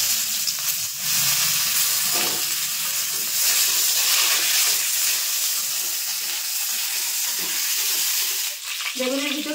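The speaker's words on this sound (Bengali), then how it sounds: "এই তেলের ভিতর কিন্তু বেগুনগুলো ভেজে নেব।" Long-cut eggplant slices frying in hot oil, a loud steady sizzle and hiss filling the whole stretch, with light stirring and clinks near the end.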